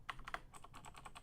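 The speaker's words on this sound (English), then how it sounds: "Now you can start typing." Rapid keystrokes on a computer keyboard while entering text in a Linux command-line editor, a quick run of soft close clicks.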